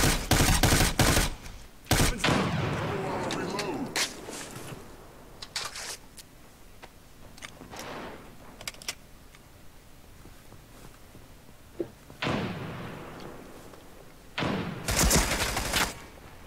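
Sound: gunfire in the video game America's Army: Proving Grounds

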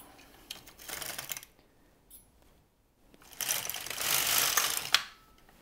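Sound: LK-150 knitting machine carriage knitting a row

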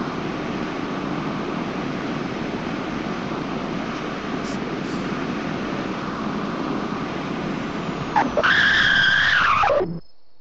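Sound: car braking and tire skid in Roblox Greenville video game

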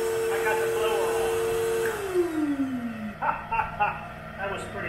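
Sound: blower running

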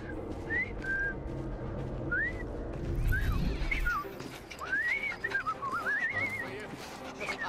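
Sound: whistling in Assassin's Creed Syndicate video game

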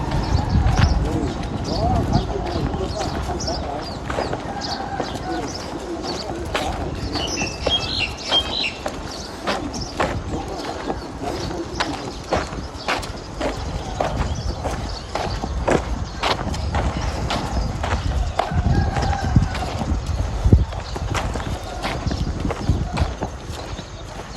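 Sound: horses walking, hooves clip-clopping

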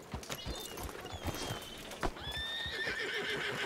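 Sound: horse neighing and hooves in a video game

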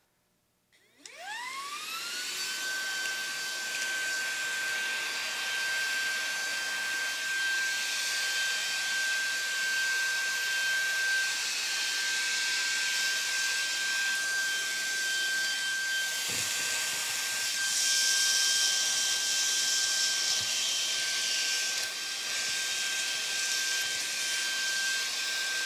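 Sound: Roidmi P1 Pro cordless vacuum cleaner sucking up breakfast cereal

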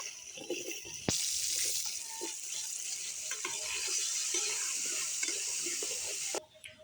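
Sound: potatoes frying in a pan

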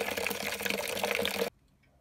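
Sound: liquid running through grain bed in brewing mash tun

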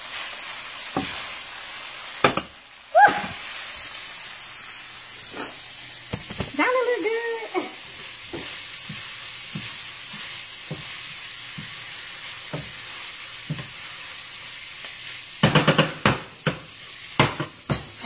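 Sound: spaghetti being reheated and stirred in a sizzling pan

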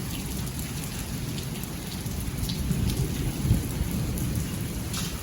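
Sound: hail falling

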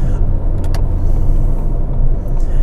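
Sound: car passing on the road while driving

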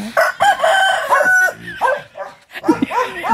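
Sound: rooster crowing

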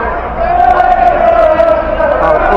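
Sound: crowd booing the police

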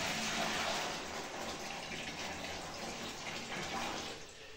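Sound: water poured into bucket for mortar

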